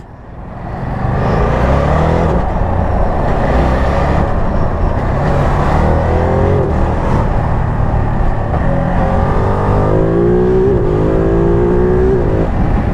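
A Ducati Multistrada V2S motorcycle engine runs steadily and loudly throughout, with rising whine as it revs up and shifts, close by and continuous.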